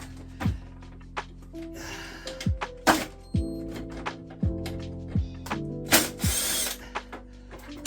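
A ratchet working Torx bolts loose on a Peugeot Speedfight 2 100cc scooter, with close, repeated clicking bursts and metallic clunks spread unevenly through the clip.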